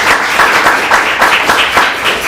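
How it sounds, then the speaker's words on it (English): Applause from an audience at a real estate sales meeting, a dense, loud wash of many hands clapping at once, sustained with slight pulsing swells throughout. "Round of applause for Patty."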